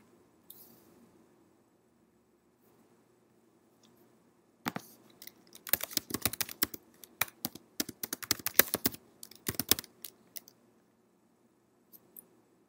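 A file name is typed on a computer keyboard: after near silence, a close burst of rapid key clicks runs for about five seconds, then a couple of isolated taps follow.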